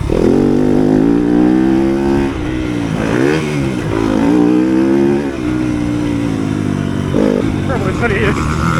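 A 2020 Yamaha YZ250FX dirt bike engine revs loud and close in third gear, rising and falling through several throttle surges with a steady buzzing drone throughout.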